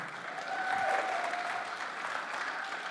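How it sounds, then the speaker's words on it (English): Audience applause at a small recovery meeting, a steady wash of clapping from a modest crowd that swells slightly around the first second and then holds evenly for about three seconds, with no voices over it. "Let's give a hand."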